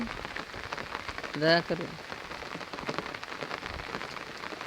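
Rain falls steadily on a Bangladeshi village as a constant broadband patter, with a brief voice heard briefly partway through and faint talk elsewhere.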